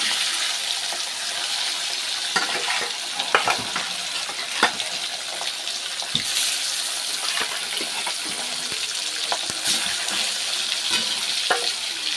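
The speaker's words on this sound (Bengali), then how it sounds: "ওই জন্য আমি মাছটা ভেজেই নেব।" Fish fries in a pan with a continuous close crackling sizzle of oil, broken by occasional pops and stirring clatter, with no one speaking.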